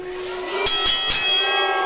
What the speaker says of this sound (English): Well, the bell sounds.